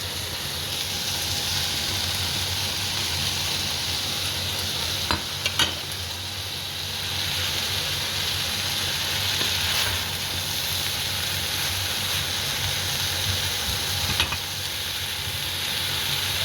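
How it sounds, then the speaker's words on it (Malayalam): Fried pork tossed into vegetables in a hot pan sizzles with a loud, steady hiss, punctuated by a few sharp clicks of a spatula against the pan. "ഈ വറുത്ത് വെച്ചേക്കുന്ന ചിക്കൻ സോറി പോർക്ക് ഇതിനകത്തേക്ക് ആഡ് ചെയ്യാണ്"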